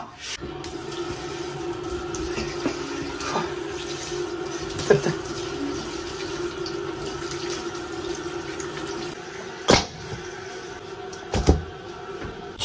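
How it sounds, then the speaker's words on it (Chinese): Pork ribs being rinsed under a kitchen tap, a steady run of water into a sink with a few soft clunks and knocks, close and moderate in level, with no talk. "排骨倒出来，洗一下，"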